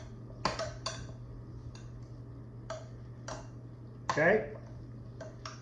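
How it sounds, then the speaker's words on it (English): A spoon stirs grated cheese into a twice-baked potato filling, with a few soft clicks and scrapes against the bowl over a steady low hum. A voice briefly speaks. "Then I'm going to stir it all up."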